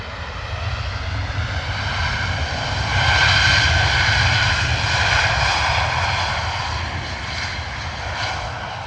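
A large airliner lands at London Stansted Airport, its engines a loud, steady roar that swells midway and holds, heard from outside with no one talking.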